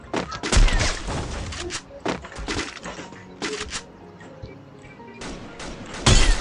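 Gunfire in a shooter game: several sharp, loud bursts of shots cracking close by, separated by short pauses, with a heavy final volley at the end.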